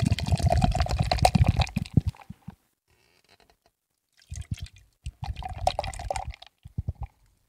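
Urban South Dunkel beer pours from a 16-ounce can into a glass in two gurgling, glugging bursts separated by a short pause, close and clear.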